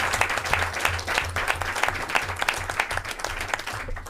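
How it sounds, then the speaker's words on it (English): An audience at a mayoral press event on Amazon's headquarters expansion in New York gives a round of applause, a dense, lively patter of many hands that stays even and fairly close throughout. "Let's give them a round of applause."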